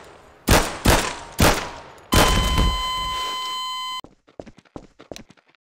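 Gunshots in a FNAF roleplay video game: three loud separate bangs, then a longer blast with a ringing electronic tone, followed by a quick scatter of quieter clicks.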